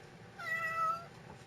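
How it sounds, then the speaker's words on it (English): A house cat gives a single drawn-out meow, faint and close, in an otherwise quiet room with no talking. "The cat came in here and started being annoying now."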